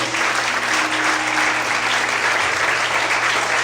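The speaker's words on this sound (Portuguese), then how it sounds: "Você pode aplaudir o Senhor essa noite?" A church congregation claps together in dense, sustained applause, loud and close, filling the whole short stretch without pause.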